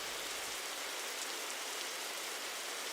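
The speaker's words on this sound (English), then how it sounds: "Your plans is to find a hostel to shelter you from this rain" Rain pouring down in an abandoned town in a horror video game, a dense, hissing downpour that stays constant and fairly loud throughout, with no voices over it.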